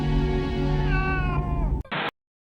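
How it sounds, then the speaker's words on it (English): A cat's long, drawn-out meow in the horror movie Sleepwalkers, loud and close, sliding in pitch and ending in a brief sharp cry. "Stop looking at me, you fucking cat!"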